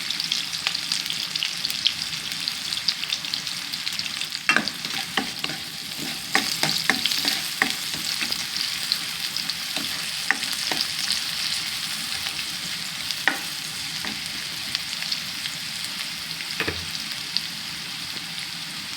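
Garlic fries in a pan with a steady, close hiss of sizzling oil, broken by occasional clinks and scrapes of a utensil stirring.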